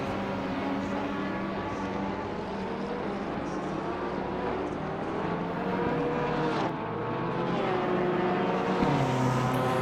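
A GT race car engine in Assetto Corsa Competizione drones loud and continuous from on board at Laguna Seca, its pitch climbing and dropping through gear changes with no talking.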